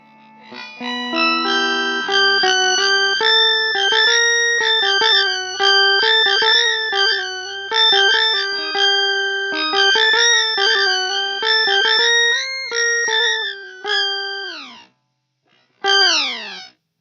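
A guitar melody run through a LEKATO PS-01 pitch shifting pedal, bright, synthetic harmonized notes played continuously, a brief pause near the end before a final note.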